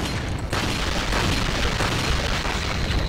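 Gunfire and a heavy explosion in the video game Resident Evil 4, played on Wii with keyboard and mouse: a sustained, booming blast and rumble that fills the whole stretch, loud and dense, with no voices.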